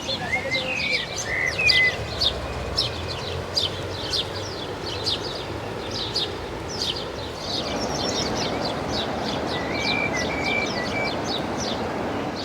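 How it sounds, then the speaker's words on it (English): Birds chirp steadily throughout a protected wildlife habitat, with many overlapping bright tweets and calls over a constant background hiss of wind or distant traffic. "all that chirping I hope you can hear is because this is a wildlife habitat for birds"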